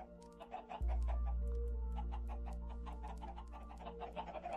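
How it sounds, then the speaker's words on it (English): Chickens cluck in a farming game, with a busy run of short, close, repeated clucks over a steady low hum. "Chicken."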